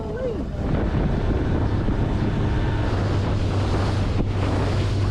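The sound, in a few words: strong wind by the ocean bay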